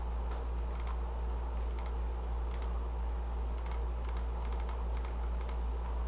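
Keyboard typing in short bursts of quick clicks, close and fairly crisp, over a steady low hum with no talking.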